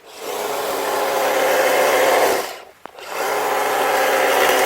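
An engine-powered pruner cuts smoothly through wood with a loud, steady rasping whine, pausing briefly before resuming at full strength.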